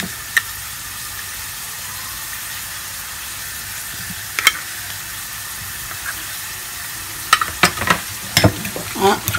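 Sardines fry in a pan without oil under a constant hiss, and scraping, clattering stirring strokes grow busier toward the end, with no talk.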